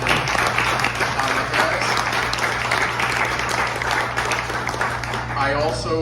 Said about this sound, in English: Please give a round of applause for Vice President